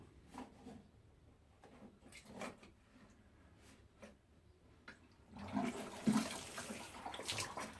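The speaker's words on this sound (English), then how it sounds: "Now all I need to do is water them." Water pours from a new watering can with a poor spout onto potted sweet peas, starting as a soft trickle and then swelling into a louder, splashing gush near the end.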